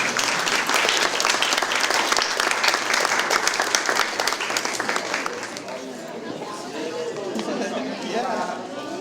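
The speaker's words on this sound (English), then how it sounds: "I'd like to give you a round of applause." Guests at a wedding rehearsal dinner break into loud, dense applause that tapers off after several seconds into chatter and talking.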